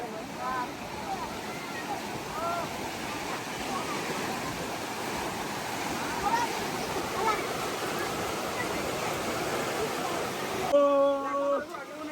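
The Bar Vanjar waterfall roars with a steady, loud rush of falling water, and people's voices are heard faintly beneath it and more clearly near the end.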